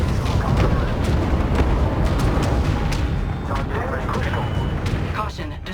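Weapons fire rumbles and booms against a destroyer in the space strategy game Homeworld 3, a dense, loud, continuous barrage of blasts and impacts with a spoken game voice mixed in.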